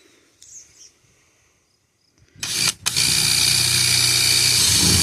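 A power drill cutting a 1-inch hole into a water tank for a float valve starts after a quiet opening, briefly catches, then runs loud and steady to the end.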